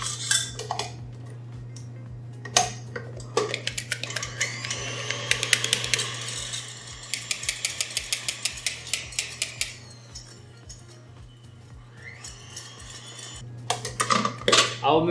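Egg whites beaten with sugar into a meringue, a steady low electric mixer hum under bursts of rapid metallic clattering from beaters against the bowl, pausing and then starting again.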